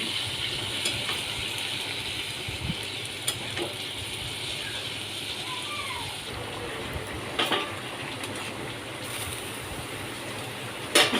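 Prawns frying in a pan with spices during a long sauté, giving a steady, moderately loud hiss and crackle with occasional sharp pops, continuous throughout with no talking.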